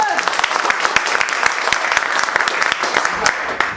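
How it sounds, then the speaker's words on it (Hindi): Loud, dense clapping from a classroom audience of mobile repair students fills the stretch, steady and continuous, with a voice or two audible underneath. "एक बार जोरदार ताली बजाओ"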